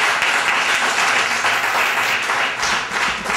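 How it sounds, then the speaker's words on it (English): Audience applause at an evening poetry reading in the Bayview Branch Library, a dense, steady wash of clapping from a room full of people that holds at an even level throughout, with no talk over it. "Let's give him a big round of applause."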